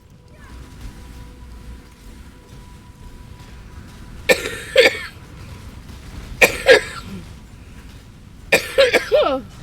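A person coughs in three separate bursts, each a quick cluster of harsh coughs, close to the microphone over a quiet background.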